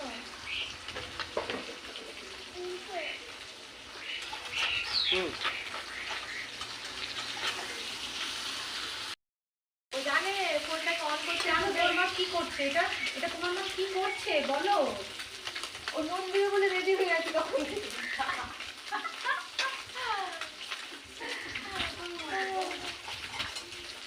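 Small mourola fish fry with green tomato in a pan, giving a steady close sizzle that drops out briefly partway through while a person talks over it.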